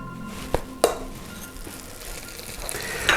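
Two tablespoons of butter hit an overly hot pan and sizzle, a soft steady frying hiss broken by a couple of sharp clinks of utensil against the pan.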